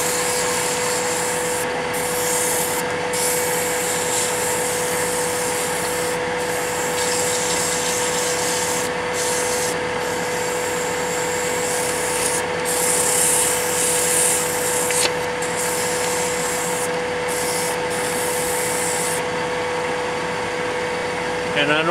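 Steady hand sanding of wood with sandpaper worked up to 220 grit, a continuous close rubbing hiss lasting throughout with brief pauses, for a Christmas light project piece to be dyed or stained.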